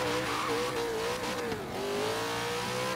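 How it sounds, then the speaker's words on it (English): A supercharged Chevy Nova does a burnout in the Forza Horizon 3 racing game, its engine revving loud and high with tire squeal over a brief dip, continuous and alone without talk. "Will it do a burnout? Yes, it will."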